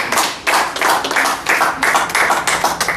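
Quick rhythmic hand clapping at about two claps per second at a church deliverance service, close and loud, with no talking over it.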